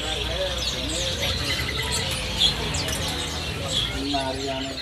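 A caged Brinji Kelabu gives short chirping calls at close range, scattered over a steady background of other birds and low voices.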